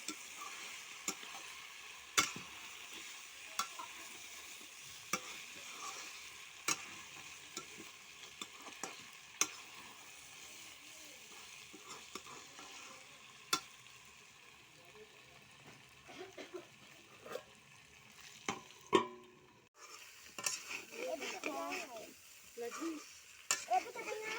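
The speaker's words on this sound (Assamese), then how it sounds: "এয়া মাংসখিনি সিজিছে আৰু নতুন ষ্টাইলত বনাই আছে বৌয়ে, এয়া আমি লৰাই আছোঁ।" A spoon stirs local chicken curry in a pot, sharp ticks and scrapes against the metal repeating irregularly over a soft simmering fry, with people talking partway through and more clatter near the end.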